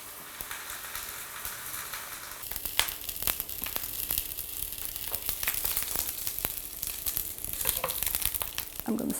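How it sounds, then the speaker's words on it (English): Tofu fries in an oiled pan for a vegan ramen, giving a steady bright sizzle with occasional scraping and stirring sounds, close up and alone. "Next, going in the pan is tofu. I'll let it fry a little bit more"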